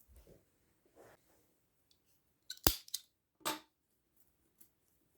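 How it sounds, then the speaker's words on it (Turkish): Scissors snip through crochet yarn while a child's straw bag is finished, one sharp close cut followed by a second fainter snip, with soft handling rustles and quiet breaths around them. "İpimi kesiyorum buradan."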